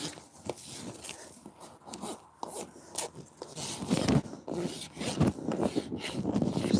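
A farrier's rasp rounds off the front edge of a hoof during trimming, giving short, irregular scraping strokes up close that grow louder and denser toward the end.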